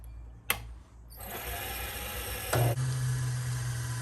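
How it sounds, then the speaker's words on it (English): A segmented wooden pen blank is sanded on a spinning machine, with a sharp click followed by a steady whirring, abrasive hum that rises briefly in tone near the middle and continues to the end. "now we're gonna sand that right there down a little bit"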